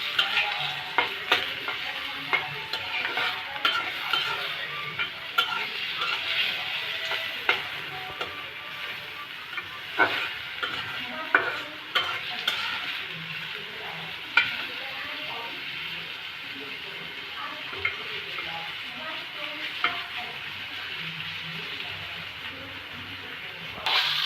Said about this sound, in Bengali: তারপর কিছুক্ষণ নাড়াচাড়া দিতে হবে যাতে পেঁয়াজের ইটা কালার হয়ে আসে।